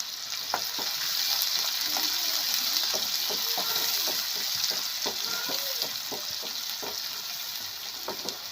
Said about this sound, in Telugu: ఆనియన్ అయితే బాగా వేగాలండి.